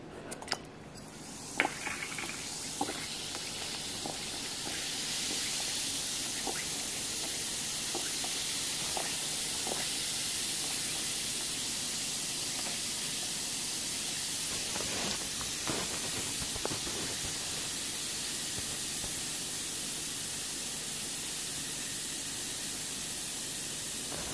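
A homemade candy cane bath bomb fizzes in water, giving off a steady, close hiss that runs unbroken for over twenty seconds, with a few small pops and clicks near the start.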